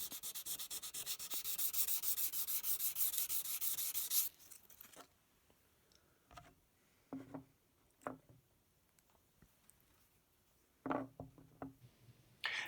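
Sandpaper rubs steadily over guitar frets for about four seconds, a loud continuous scratchy hiss, followed by quieter scattered knocks and short rubbing strokes.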